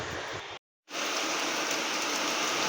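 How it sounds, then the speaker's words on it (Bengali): Steady rain pours down as a dense, even hiss close by, broken by a brief silent gap before resuming at full strength. "এখন আবার বৃষ্টি করছে"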